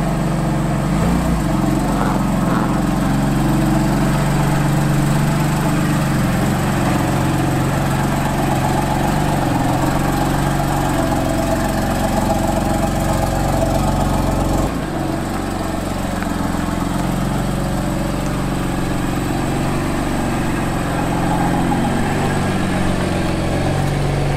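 A 2015 (65-plate) car that replaced an Audi A1 idles steadily nearby, a loud, even engine drone with a low rumble that holds unchanged throughout, and no voices.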